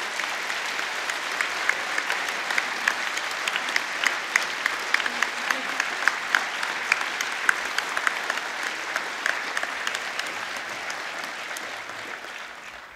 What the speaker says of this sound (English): they too are deserving of a huge round of applause and a show of appreciation